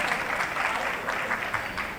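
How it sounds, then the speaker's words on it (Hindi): A crowd claps steadily at the 21st Jain Scholars Award 2023 ceremony in Delhi, a dense, even wash of applause with faint pulsing throughout. "ताली बजानी है।"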